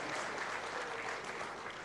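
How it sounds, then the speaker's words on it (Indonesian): An audience at the opening of a 2021 vocational education program kick-off meeting in Indonesia gives a continuous round of applause, dense and even, heard from a distance with no talking over it. "Boleh kita beri tepuk tangan yang meriah untuk kegiatan kita pada pagi hari ini."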